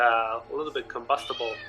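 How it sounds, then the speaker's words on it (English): A pet cat meows repeatedly in short, rising calls close to the microphone, overlapping someone talking. "Sorry about my cat."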